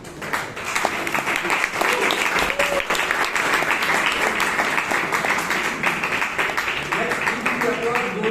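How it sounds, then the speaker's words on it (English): An audience at a Bangalore Toastmasters meeting keeps up sustained applause, dense clapping from a roomful of people, with voices faintly audible beneath it. "Let's keep the applause going for the tag team."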